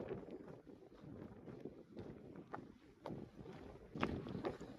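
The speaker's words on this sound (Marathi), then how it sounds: "वारा खूप जोराचा वारा येतोय मंडळी" Strong, gusty wind roars and buffets the microphone throughout on Ramshej Fort, with no one speaking.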